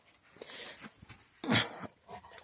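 A dog nearby gives a short sharp bark amid soft snuffling and whimpering sounds, fairly quiet overall.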